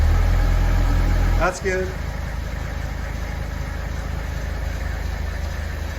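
A 1979 Mercedes-Benz 300SD turbo diesel idles in cold weather just after a cold start, a steady low engine rumble that drops slightly after a brief clunk, continuing under a short spoken remark.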